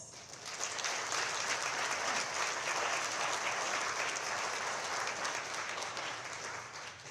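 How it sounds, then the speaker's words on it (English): A banquet audience breaks into sustained applause, a dense wash of many hands clapping that swells quickly, holds steady for several seconds, then begins to ease off. "I would like us all to please give MOFOR Taiwan a round of applause."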